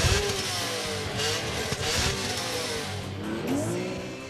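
BMW M3 E46 with a 343-horsepower 3.2-litre inline-six that revs to 7900 rpm, its loud engine note rising and falling steadily through repeated revs, with a hint of tire noise.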